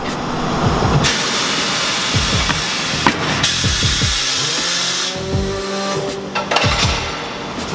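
A tire machine breaks an aluminum wheel's tire bead loose, giving a loud, close mechanical whine with pneumatic hissing, thumps and creaks that rise and fall across the clip, with no talking.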